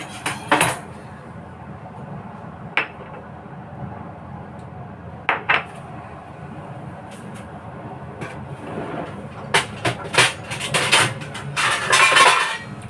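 A knife slices into a mango, producing scattered sharp clicks and taps against a cutting surface with quiet gaps between them, then a denser burst of scraping, clattering cuts toward the end.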